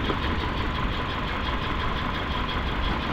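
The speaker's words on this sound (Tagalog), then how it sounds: "patay ng patay yung makina" A Toyota Altis engine with a rough idle and repeated stalling, running as a steady close mechanical drone with a low uneven rumble and no speech.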